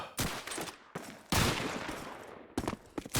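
Gunfire in the video game Call of Duty 2 during a competitive match on the Toujane map, several sharp close shots and short bursts separated by brief gaps, loud and alone.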